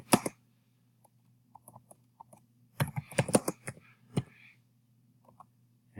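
Someone types on a computer keyboard in short, uneven clusters of crisp keystrokes with pauses between, close by over a low steady hum.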